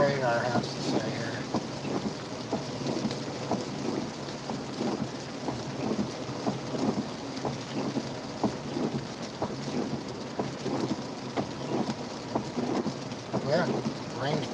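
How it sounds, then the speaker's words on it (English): Steady storm rain pours down in a dense, even hiss, with a low rumble of thunder beneath it. It continues unbroken throughout and is fairly loud and close. "rain's pretty much coming down to a small trickle right now."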